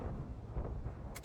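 Tank cannon fire in World of Tanks, a deep rumbling boom rolling out over about a second, ending in a sharp burst at the close.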